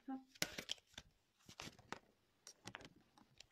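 Tarot cards being shuffled by hand in short riffling bursts and soft slides, close and fairly quiet, with a person talking at times.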